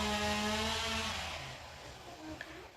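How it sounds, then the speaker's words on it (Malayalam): A chainsaw cutting a tree nearby gives off a droning engine whine that holds steady, then fades and thins toward the end, heard from some distance outdoors. "ഇവിടെ എവിടെയോ മരം മുറിക്കുമോ എന്തോ ചെയ്യുന്നുണ്ട്"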